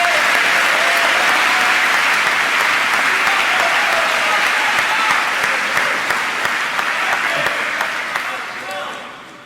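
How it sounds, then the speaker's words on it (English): An audience at a 2017 Kiski commencement ceremony applauds in a loud, dense, sustained wave of many hands clapping, fading out near the end. "I would like everyone here to give a round of applause for all the hard work, dedication, and perseverance"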